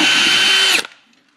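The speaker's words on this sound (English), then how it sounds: "that marks where we're going to put the drill bit" Power drill boring a hole through sheet metal while wiring a relay for an electronic choke: a loud, steady high-pitched whine for most of a second, then cutting off sharply with a brief fading tail.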